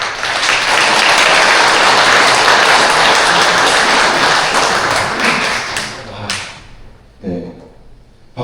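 A seated crowd at a volunteer corps founding ceremony claps loudly and steadily for about six seconds, then the applause thins out into a few scattered claps and thumps before stopping.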